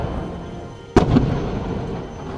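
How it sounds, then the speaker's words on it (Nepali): A single sharp rock-blasting explosion booms mid-clip at an expressway construction cutting through hard rock, a sudden loud burst with a brief rumbling tail over steady site noise. "कटिङका लागि अप्ठ्यारा चट्टान छिचल्नका लागि यस्ता ठाउँमा विस्फोटनका काम समेत"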